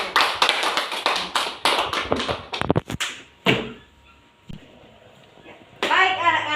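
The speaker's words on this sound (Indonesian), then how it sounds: "Oke, tepuk tangan untuk kelompok" A classroom of children claps for a group during a lesson, with a quick burst of hand claps and taps that fades into quiet, followed by a voice near the end.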